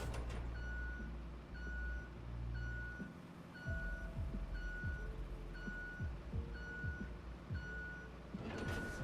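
Steady reversing beeps from a heavy truck in the road-building game RoadCraft, evenly spaced and repeating for several seconds over a low engine rumble, with air-brake hisses near the end.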